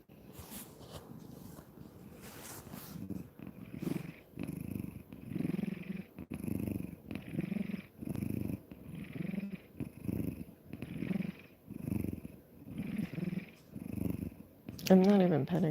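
A house cat purrs close by in a steady, rhythmic rumble of repeated pulses, with people talking quietly over it.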